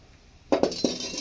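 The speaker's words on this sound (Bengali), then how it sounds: "আবার কড়াই বসিয়ে দিলাম।" A metal kadai set back down on a home kitchen stove after frying rohu fish for posto, giving three close clinking knocks in quick succession, with no talk.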